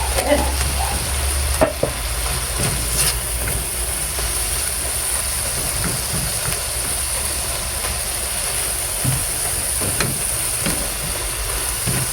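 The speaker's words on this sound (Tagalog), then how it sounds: "Kaya po habang pinapadurog ko po itong ating kamatis" Tomatoes are crushed as they sauté in a pan for sarciadong daing na pusit, a dense, continuous sizzle lasting throughout with occasional scraping knocks, loud and close.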